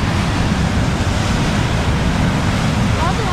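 Fast-moving water rushes in a constant broadband roar at Paterson Great Falls by an old mill, loud and steady with wind buffeting the microphone.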